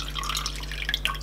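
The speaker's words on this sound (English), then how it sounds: "I'm gonna drain it off." Liquid drips and trickles as water drains from squeezed cabbage, a soft close patter of droplets over steady low hum, with no talking.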